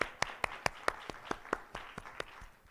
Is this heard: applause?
yes